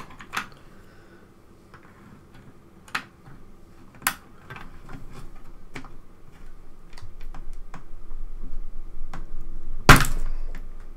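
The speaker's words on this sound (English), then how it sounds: "So I think we just have a go at pulling the keys off carefully with a key puller." Keys being pried off a Didaktik computer keyboard with a key puller: a few sharp clicks and snaps spaced apart over a quiet background, ending in a louder pop near the end.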